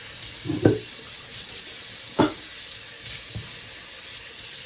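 Broccoli rinsed under a running kitchen tap, a steady faint water hiss with a few brief splashy bursts as the florets pass through the stream, no talking.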